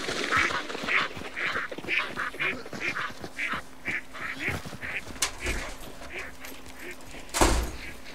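Ducks quack repeatedly in the game Hunt: Showdown 1896, a rapid run of nasal calls through the clip, with a few sharp bangs, one loud near the end, and a faint voice underneath.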